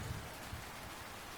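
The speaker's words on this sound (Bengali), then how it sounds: "বাইরে তখনও মুষলধারে বৃষ্টি আর মেঘের গর্জন চলছে।" Heavy, steady downpour hissing continuously, with faint low rumbles of thunder underneath, as a horror cartoon sound effect on a stormy night.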